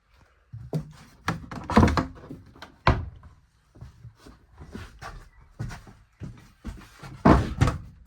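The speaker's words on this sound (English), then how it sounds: "that closes nice and flush again" A wooden door on a boat is worked and shut, giving a series of close, sharp wooden thunks and knocks in an irregular rhythm, some louder slams among lighter taps.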